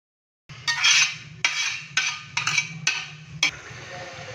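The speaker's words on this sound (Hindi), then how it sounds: "तो अभी हम इसको बर्तन में ट्रांसफ़र करेंगे।" Cooked beef korma is moved into a metal cooking pot, with a spoon striking and scraping the pot in a series of sharp clinks and clatters, close and fairly loud.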